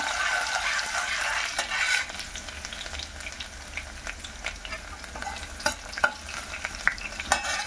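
Garlic and urad lentils fry in hot oil in a pan, a steady close sizzle with scraping stirs and small pops and clinks growing more frequent toward the end.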